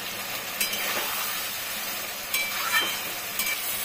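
Tomato goes into mutton curry frying in a pan, producing a steady, close hissing sizzle with a few brief crackling spikes. No voice is heard over it.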